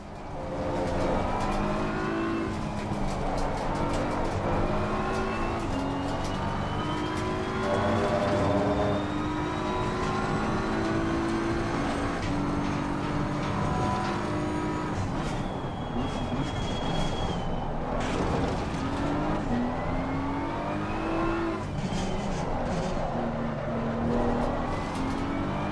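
A Ferrari and an Aston Martin race at Indianapolis, engines revving hard through repeated rising gear pulls and downshifts, a loud, continuous, close-up howl from the cars with no voices.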